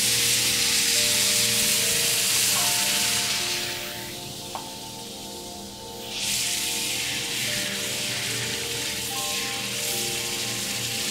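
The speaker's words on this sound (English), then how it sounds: "Go ahead and deglaze a little bit." Wine hitting a hot pan to deglaze browned beef cheeks for bourguignon, a loud close sizzle that dips briefly midway, then surges back and keeps crackling steadily.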